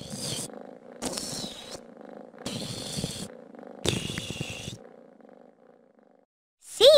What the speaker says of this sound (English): C is for cat.